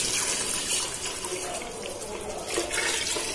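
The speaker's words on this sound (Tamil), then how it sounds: "நீ உங்கள் அரிசிக்கு தகுந்த மாதிரி தண்ணி ஊற்றிக்கணும்" Water being poured into rice in a cooking pot for mushroom biryani, a steady close rushing, splashing pour that runs without break and with no talk.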